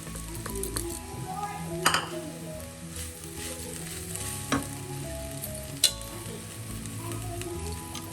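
Drumstick leaves are stirred into frying masala for a cherupayar thoran, giving a continuous close sizzle broken by several sharp spoon-on-pan clinks, while a voice talks over it.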